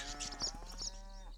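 Cattle in a farming video game give a drawn-out, tonal moo that sustains and slowly fades, clear and fairly close over a low steady background hum.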